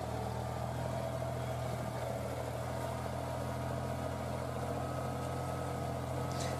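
A mini tractor pulls a homemade two-body plough through a field, its engine a steady, low droning hum that stays fairly faint and even throughout.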